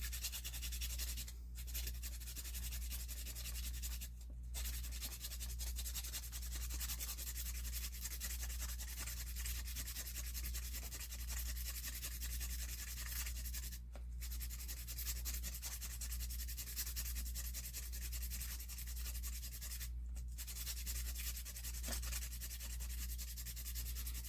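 Sandpaper rubs steadily against a silver quarter being shaped into a ring, a continuous close scratchy hiss over a low hum, broken by a few brief pauses.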